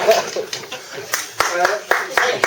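Wedding guests break into several short bursts of clapping, loud and close, interleaved with a voice addressing the room at a reception.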